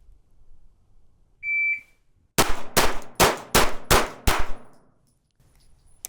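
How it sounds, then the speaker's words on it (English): A Glock 19X pistol fires six sharp shots in quick succession, each ringing off steel targets with a metallic clang; a brief beep sounds just before the first shot. "we'll shoot 3 rounds to each target and see not only how the recoil feels, but how the gun also swings and stops here"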